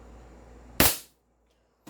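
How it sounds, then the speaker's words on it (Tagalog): An upgraded airsoft pistol fires a single sharp, close shot into a chronograph, followed by a brief silence and the onset of a second sharp sound at the very end. "Pero ito pistol. Firing."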